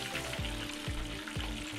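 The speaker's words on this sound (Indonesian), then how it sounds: "sekarang untuk bagian dagingnya kita goreng untuk kedua kalinya supaya nanti pas kita siram dengan saus itu dagingnya, tepungnya masih crispy" Battered fish pieces being deep-fried a second time in hot oil, a steady, close crackling sizzle running unbroken through the whole moment, with faint rhythmic stirring underneath.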